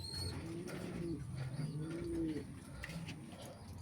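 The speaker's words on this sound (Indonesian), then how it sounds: "Kita lihat merpatinya." Domestic homing pigeons coo steadily and close by in a backyard loft, the soft rolling calls repeating over a constant background hiss, with occasional faint chirps and no talking.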